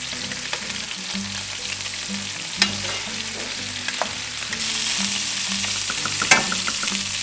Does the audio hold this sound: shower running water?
no